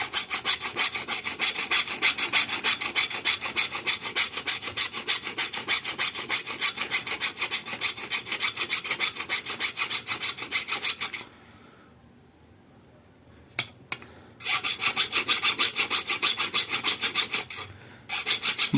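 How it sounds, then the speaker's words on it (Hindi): A half-round metal file rasps inside a silver ring, fast rhythmic back-and-forth strokes, close and loud, pausing briefly for a few seconds before resuming. "अब देखिए ये हाफ राउंड वाला चलाएंगे अंदर"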